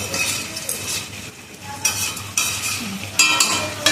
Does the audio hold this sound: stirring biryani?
yes